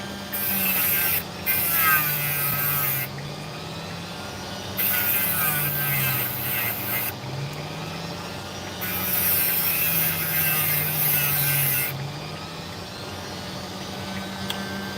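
A Dremel rotary tool cutting opal with sand attached, heard as three long high whining bursts of grinding separated by short pauses, a steady low hum running under them.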